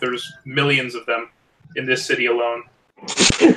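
One short, sharp sneeze bursts out near the end, following stretches of a person talking.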